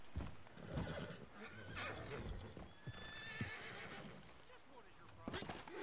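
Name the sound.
horse neighing in a video game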